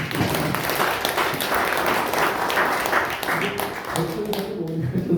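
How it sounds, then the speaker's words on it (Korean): An indoor audience gives the CEO a sustained burst of applause, dense steady clapping heard close throughout that thins slightly toward the end, with some voices mixed in. "대표이사님을 위해서 큰 박수 한번"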